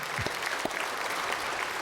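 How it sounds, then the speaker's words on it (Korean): A church congregation claps after a pastor's song during a Korean worship service, producing a brief, fairly soft burst of dense applause with no speech. "박수 한번 하세요."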